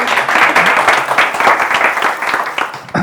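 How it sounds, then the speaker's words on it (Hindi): At a stand-up comedy show, the audience breaks into brisk, loud applause, many hands clapping in a dense close patter that holds steady for a few seconds. "सीए सर के लिए तालियां बजाओ यार"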